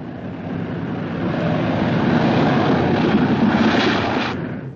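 A propeller aircraft comes in to land, a loud, steady engine drone with rushing wind noise that swells slightly and then fades near the end.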